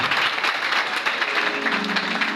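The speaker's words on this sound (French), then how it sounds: "Can you put your hands together for the Lord?" A church congregation claps its hands together in praise during a service, making a short burst of loud, dense applause from many people, with no clear speech over it.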